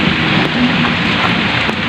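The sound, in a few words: heavy rain falling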